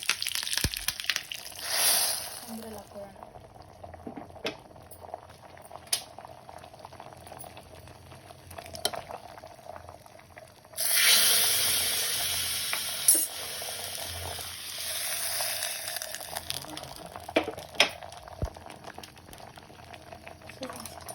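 A tempering of curry leaves in hot oil goes into a pot of saaru. A soft bubbling simmer comes first, then a loud, sustained hiss bursts in partway through and carries on to the end.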